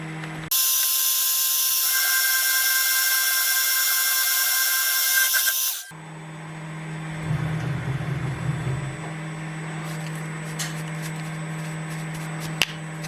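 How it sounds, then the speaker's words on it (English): A milling machine with a 3 millimeter end mill cuts loudly and steadily with a harsh high whine for about five seconds, then drops to a quieter mechanical hum with a few faint clicks and a sharp tap near the end. "but then we have to go down to 3 millimeter"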